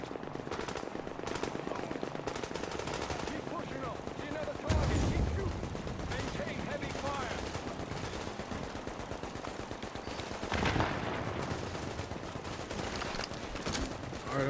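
Sustained automatic gunfire from the video game The Division, rapid bursts running through the whole stretch with louder volleys near five and eleven seconds, mixed with game action and some talk underneath.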